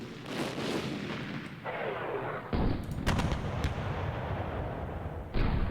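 Artillery rounds fire in the Panzer Campaigns wargame Bulge '44, a run of loud, booming game blasts with sharp onsets, several shots over a few seconds against a continuous rumbling background.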